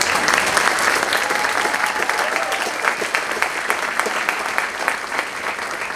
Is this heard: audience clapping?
yes